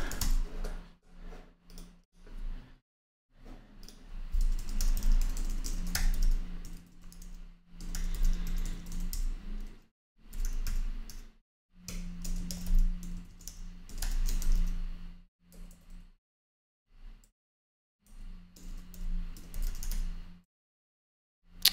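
Bursts of rapid typing on a computer keyboard while coding in React Native, with clicky keystrokes in runs separated by short silent pauses.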